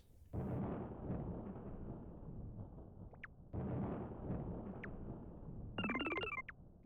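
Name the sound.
lightning and thunder effect in Yume Nikki video game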